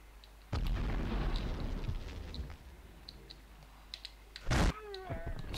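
A sudden loud explosion in the video game Medal of Honor bursts out, rumbling away into crackling debris, and a second short blast hits a few seconds later.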